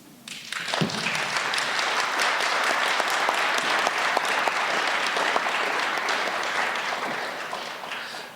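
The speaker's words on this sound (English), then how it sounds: "give applause to each candidate once again" Steady applause from an audience at a 2019 federal candidates forum in Calgary Northwest, a sustained crowd of clapping hands that swells quickly and holds for several seconds before tapering, with no speech over it.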